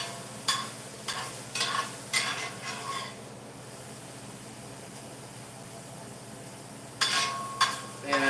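Hamburger meat fries in a pan as a utensil scrapes and stirs in short bursts, with a quieter sizzling lull between the early strokes and a couple more scrapes at the end, close and with no talk.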